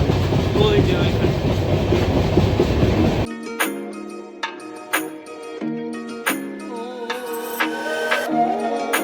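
The Howrah-Tirupati Humsafar Express runs along the rails with a steady, dense rumble of wheels for about three seconds. The noise then gives way abruptly to music.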